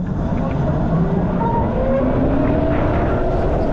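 A Ryvid Anthem electric motorcycle with a half-charged battery accelerates hard from a stop. A thin motor whine climbs steadily in pitch, close by and under constant rushing wind noise.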